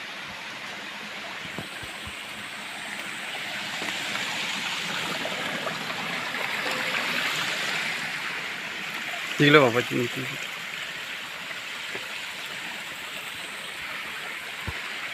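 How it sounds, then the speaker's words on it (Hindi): Narmada river waterfall in the Amarkantak forest, a steady broadband rush of falling and flowing water that runs throughout, with a brief louder splash or knock near the middle and a person speaking over it. "जहाँ से झरना गिर रहा है।"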